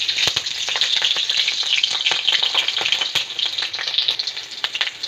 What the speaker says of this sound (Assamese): এতিয়া মই ইয়াতে কাটি লোৱা জলকীয়া দুটা দি দিম।